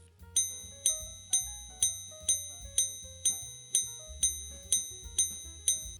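A Bulgari minute repeater watch chimes a run of about a dozen evenly spaced, bright metallic strikes over a low, soft mechanism whir, faint and close, without any voices.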